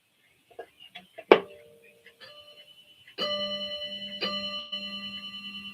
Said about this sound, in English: Listen to that chime on that.